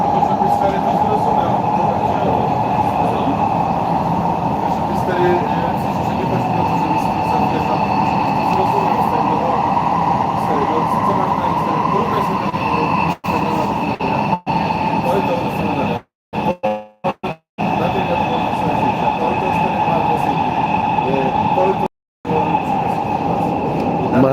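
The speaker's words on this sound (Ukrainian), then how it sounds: "Їду додому зараз з метро." An underground metro train on a ride home, its steady loud rumble and whine filling the carriage throughout, with a few brief dropouts and a person speaking over the noise.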